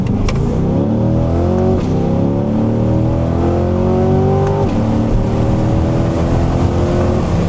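A Chevrolet C8 Corvette in manual mode accelerates hard onto a highway, its engine roaring loudly up through the revs with a brief dip at a gear change before climbing again, heard from inside the car.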